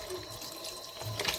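Tap water runs steadily over dough in a sink as it is washed to rinse out the starch, a continuous close splashing stream that swells louder near the end.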